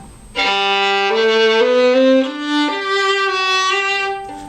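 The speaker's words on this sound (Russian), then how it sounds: "Это звук скрипки без сурдины." A bowed violin plays a slow, open and bright melody alone, each note held with a full, unmuffled tone.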